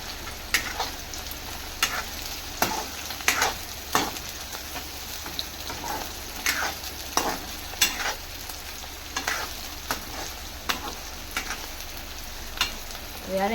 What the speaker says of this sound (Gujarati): મરચાંની સાથે સાથે હું અહીંયા લસણની કળી પણ નાખી દઈશ.